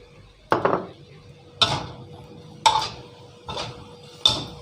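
A spatula scrapes and clanks against a pan five times in a steady rhythm while dry sukiyaki with glass noodles, pork, egg and vegetables is stir-fried, close and sharp against a quiet background with no talk.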